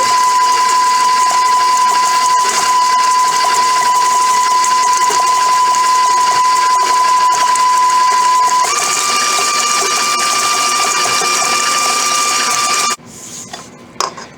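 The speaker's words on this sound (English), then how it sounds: "My butter here is a little bit too cold. That's okay. I just need to take a little more time creaming this." An electric mixer creams cold butter for red velvet cupcakes with a steady, loud, close mechanical whir that shifts pitch slightly partway through, then cuts off near the end, leaving faint handling noise.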